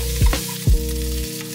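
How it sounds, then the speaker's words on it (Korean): Bacon sizzles steadily in a hot pan, a constant crackling hiss with a couple of low thumps from the pan, no voices. The bacon is cooked slightly past done. "마지막으로 베이컨을 익혀줍니다"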